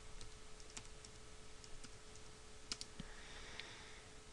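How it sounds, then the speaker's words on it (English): Quiet, close clicking of keys as a command is typed on a computer keyboard, with irregular light taps and a few louder clicks over a faint steady hum. "I'm just going to type in ipconfig"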